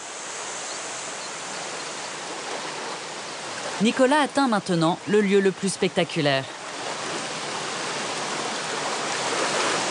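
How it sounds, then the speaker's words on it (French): Waterfall at the Gour d'Enfer on the Dourdou river canyon in Aveyron, a steady broadband rush of falling water heard throughout, with someone speaking over it for a few seconds in the middle. "C'est la cascade la plus importante du canyon."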